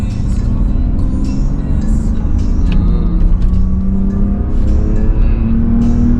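A 1996 Mercedes-Benz W140 S280 tuned to run on E20 accelerates on kickdown. A loud, steady engine drone climbs in pitch under cabin rumble, with a few faint clicks and knocks.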